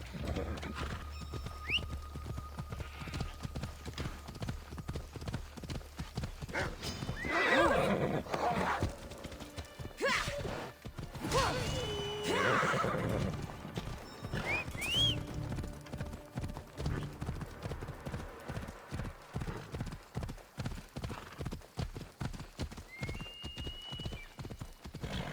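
In Assassin's Creed Odyssey, a horse gallops with steady rapid hoofbeats and lets out whinnies midway, with game music and voices underneath throughout.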